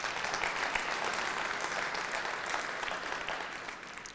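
Applause from a live audience at a state of the city address, sustained, even clapping throughout that tapers a little near the close.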